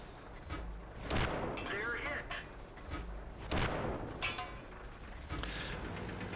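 A T-34 tier 5 medium tank's gun fires in World of Tanks, a few heavy booming shots spaced about a second or two apart amid battle rumble, with someone talking over the action.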